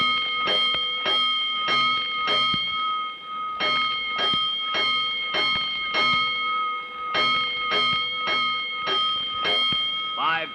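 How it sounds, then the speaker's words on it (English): Fire alarm bells in a radio drama ring in rapid repeated bursts of metallic strikes with steady ringing tones, loud and continuous, with short pauses between groups. "A 5-alarm fire, 5 bells."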